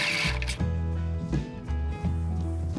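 A sewing machine stitches jumpsuit pockets in steady, whirring runs, pausing briefly between stretches of stitching, close and alone.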